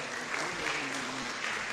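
An audience applauds a recited patriotic poem, broad continuous clapping with a faint voice trace beneath it, steady and moderately loud.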